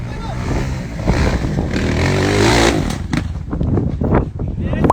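A dirt bike engine revs hard and climbs, loud and nearby, then falls back to a rougher, uneven putter and bursts of throttle toward the end.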